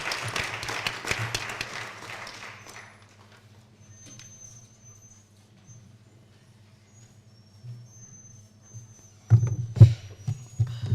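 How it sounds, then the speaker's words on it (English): An audience at a law school seminar with provincial police applauds briefly. The clapping fades out within about three seconds, leaving a quiet room hum and a few soft bumps. "A round of applause,"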